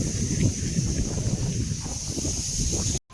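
Wind blows steadily outdoors beside a spinning fan, giving a loud, continuous broadband rush with a steady high whine and rumbling gusts against the microphone, and then a sudden brief cut near the end.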